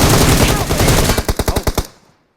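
Rapid automatic gunfire in the battle game PUBG, a dense burst of shots followed by about eight distinct loud, evenly spaced reports before cutting to silence.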